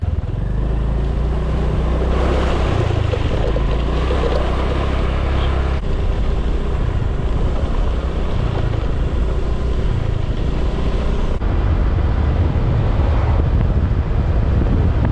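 Steady vehicle rumble and road noise while driving through rural farmland near Chiang Dao in northern Thailand, with wind buffeting the microphone throughout; continuous and fairly loud, no talking.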